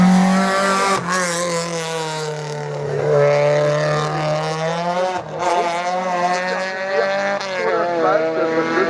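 Race car at a regional hill climb at Hébécrevon, its engine loud and close, revving through gear changes with rising and falling pitch over several seconds and a possible tire squeal, with commentary voices heard faintly over it.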